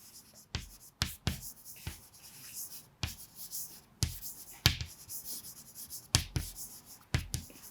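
Pen or chalk strokes write a definition during a physics lesson on light refraction, giving a series of sharp taps and short scratchy strokes in an irregular rhythm, close and fairly clear, with no talk.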